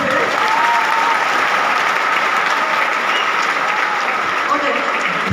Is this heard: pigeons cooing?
no